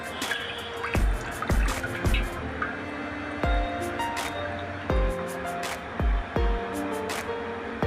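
Soaked bread squeezed by hand to press the water out, giving repeated short wet squishes and drips at about one-second intervals, close, under background kitchen noise.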